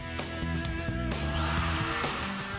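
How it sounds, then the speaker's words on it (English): A hammer drill fitted as a stirrer churns moss in a kitchen container, a loud, steady whining motor drone with a few brief shifts in pitch and load, heard alone. "opts for a more unusual kitchen tool, the hammer drill"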